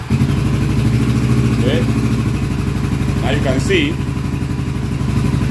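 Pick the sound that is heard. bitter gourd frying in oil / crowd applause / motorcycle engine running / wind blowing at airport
motorcycle engine running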